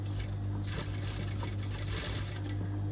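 Sewing machine stitching a cord along the edge of a blouse tie, a close, steady mechanical whirr with faint clicks and light rattling throughout, no voices.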